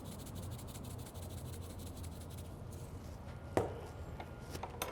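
Avocado being mixed into pico de gallo seasoned with cherry wood smoked salt, giving soft continuous rubbing and squishing sounds with one sharper scrape near the end, close and quiet, no talking.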